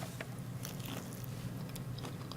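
Someone bites into crunchy food, giving a series of sharp crackling crunches and chewing sounds, close and fairly quiet with no talking.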